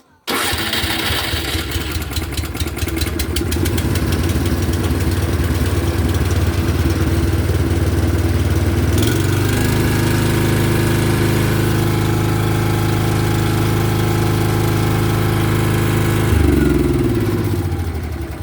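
A Honda HSS928 snowblower engine cranks and fires immediately, then runs loud and close for the whole stretch, settling to a steadier idle partway through and later shifting to a slightly different speed.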